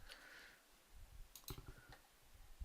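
A few quiet keys are pressed on a computer keyboard, a sparse cluster of soft clicks in a hushed room with no talk.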